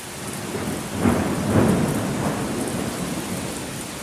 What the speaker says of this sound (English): Perfect timing with the thunder.